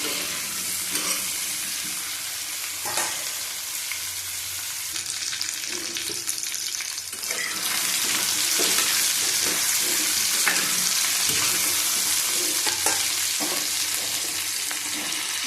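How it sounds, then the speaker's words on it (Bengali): Tomatoes frying in a pan with chillies, a continuous close sizzle with occasional stirring clatters, growing louder and hissier partway through. "দিয়ে দিলাম টমেটো, ভালো করে ভেজে নেব"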